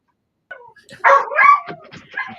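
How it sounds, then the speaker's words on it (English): A dog barks close by in a short burst of yips and barks, with a soft whimper before the louder barks. "I gotta mute for a minute because my dog's barking."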